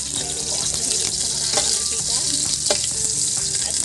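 Ginger, garlic and onion sautéing in a very small amount of oil, a loud, dense continuous sizzle with occasional scrapes of stirring, close up.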